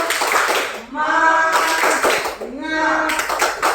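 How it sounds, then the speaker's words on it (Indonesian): A group in a school classroom claps hands together in brisk bursts while voices chant loudly in between, with clapping and shouting overlapping throughout. "Tepuk tangan semangat."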